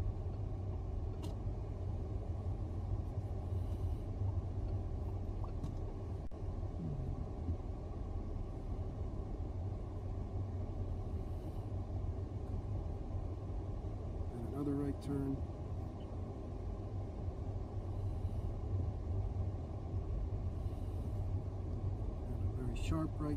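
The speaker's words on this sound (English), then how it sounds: "the car is taking a right turn." A steady low rumble fills a car's interior as it makes a right turn out of a parking lot, continuous and even, with a few faint clicks and thumps and a voice speaking over it at times.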